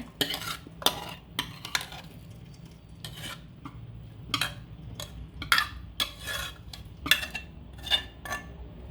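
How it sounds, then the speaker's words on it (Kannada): Cooked dill greens scraped from a pressure cooker into a vessel, with irregular metallic clinks and scrapes of a spoon against metal over a quiet background, close by and sharp. "ಈಗ ಕುಕ್ಕರ್ ಓಪನ್ ಮಾಡಿದ್ದೀನಿ ಈಗ ಇದನ್ನೆಲ್ಲ ಬಸ್ಕೊಳ್ತಾ ಇದ್ದೀನಿ ಒಂದು ಪಾತ್ರೆಗೆ"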